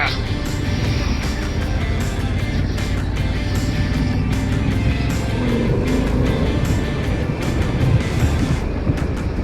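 Steady, loud road noise from a 2024 Harley-Davidson Pan America 1250 Special motorcycle being ridden, a continuous engine-and-wind roar throughout with a rider talking over it.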